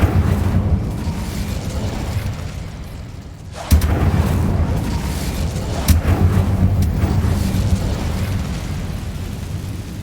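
Incendio fire spell cast in the video game Hogwarts Legacy, a loud whooshing burst of flame followed by a rumbling roar and a few sharper bangs.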